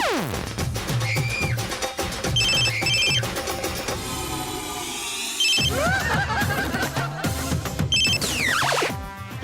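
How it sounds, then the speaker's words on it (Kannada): A phone rings with a bright melodic ringtone while an outgoing call keeps being cut off, in a Kannada TV serial scene. The repeating electronic jingle plays loud and continuously with swooping dramatic sound effects layered over it. "ನಾನು ಕಾಲ್ ಮಾಡ್ತಾನೆ ಇದ್ದೀನಿ, ಅವ್ನು ಮತ್ತೆ ಕಟ್ ಮಾಡ್ತಿದ್ದಾನೆ"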